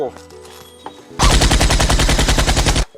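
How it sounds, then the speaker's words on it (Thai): Loud close burst of G36 rifle fire in a shooting video game, rapid automatic shots lasting over a second after someone talks briefly. "นี่เป็นปืน G36 นี่ว่า แรงไหมเนี่ย"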